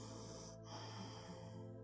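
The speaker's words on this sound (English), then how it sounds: "Be the one using your Ujjayi breath" Ujjayi breathing, the fire-breath style of yoga, as a single throaty, hissing breath heard close and softly against a steady low background hum.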